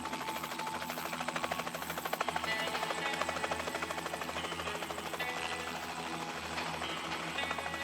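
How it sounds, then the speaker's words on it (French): Airplane engine droning inside the survival video game LifeAfter, a steady, rhythmic mechanical throb with a fast pulsing beat that stays loud and constant throughout. "L'avion."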